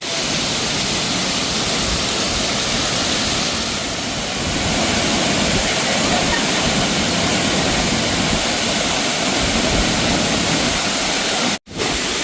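A monsoon waterfall at Talavade in Devgad, Konkan, roars steadily and loudly without a break, a dense broadband rush of falling water close by.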